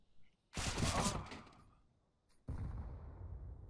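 Gunfire in a CS:GO esports match, a dense burst of rapid shots lasting about a second, a short pause, then a second sharp blast trailing into rumbling noise.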